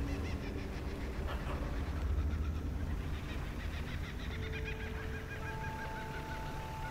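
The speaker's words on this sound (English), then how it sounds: "I have not heard that damn bird in decades." Jungle bird call in the video game Dredge, squawking clucks repeating in a rhythmic series over a dense, constant game ambience of low rumble and soft tones.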